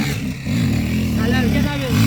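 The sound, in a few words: motorcycle engine running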